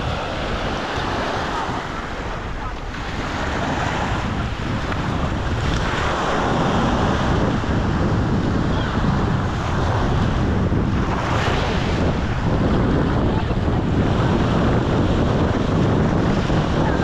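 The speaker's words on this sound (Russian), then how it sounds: "Штормит, Родик." Rough autumn surf at Kemer, Turkey crashes continuously with heavy wind buffeting the microphone, a loud, churning roar of stormy sea waves with no talk.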